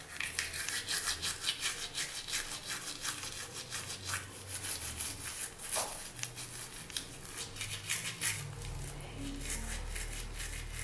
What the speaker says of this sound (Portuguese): Gente, agora tá escovando os dentes.